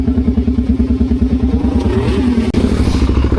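Dirt bike engine idling on a slippery trail in Southeast Queensland, a loud, steady low thumping putter close by with a brief clatter midway, no talk over it.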